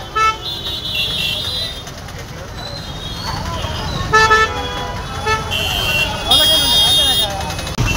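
Several car horns toot on and off, some short and some held, in a dense traffic jam around the transport of an 18-foot Ganesh idol in Korutla, with a loud rumble of traffic and people talking over it.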